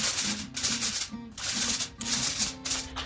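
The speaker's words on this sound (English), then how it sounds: "I'm going to put a piece of foil over this" Aluminum foil crinkling and rubbing as a sheet is pressed over a pan of smoked carne adovada made with country style ribs, close and fairly loud, in repeated bursts of rustling with brief pauses between them.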